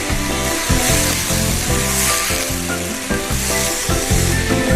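Bean sprouts and pork are stir-fried in a hot pan, giving a loud continuous sizzle broken by rhythmic scraping and tossing strokes of the utensil against the pan.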